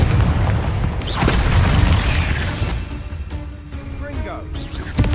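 Confringo fire spell blasts in the video game Hogwarts Legacy: loud, booming bursts crowd the first three seconds, then ease into quieter crackling effects and game ambience.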